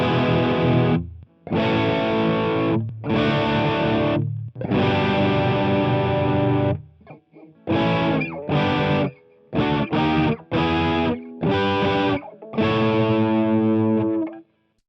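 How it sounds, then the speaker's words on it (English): Electric guitar run through the AmpliTube 5 THD amp model with pedals, loud distorted chords and riffs with chorus-like effects, played in separate phrases broken by short gaps of silence, with no talk. "getting more aggressive tones will require using some pedals or rack effects"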